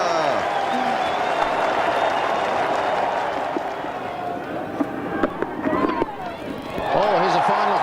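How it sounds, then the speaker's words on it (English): A large crowd at Lancaster Park roars and applauds during a 1992 Cricket World Cup group match between Pakistan and New Zealand. The cheering forms a loud, continuous wash of noise with scattered claps throughout. "the crowd give him an enormous cheer here at Lancaster Park"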